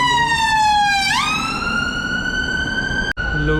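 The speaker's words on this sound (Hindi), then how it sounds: "ये रहे लंदन की एम्बुलेंस।" A London ambulance siren wails loudly nearby on a busy street, one long rising sweep settling into a sustained high tone, with a brief sharp dropout near the end.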